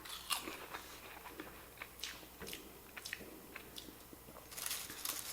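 Someone bites into crisp baked cheesy kale chips up close, with scattered crunches and brittle crackles. The bites come in short bursts, and a louder flurry of crunching closes the sequence.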